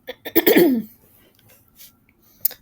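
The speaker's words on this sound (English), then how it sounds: "I don't know why I'm all of a sudden coughing so much" A short burst of harsh coughing lasting under a second, followed by quiet breaths and a faint click.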